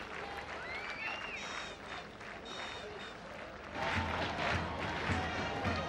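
Capacity crowd at Asgiriya Stadium during a Sri Lanka vs Kenya 1996 World Cup cricket match, a distant roar and scattered cheering that swells louder toward the end, under commentary.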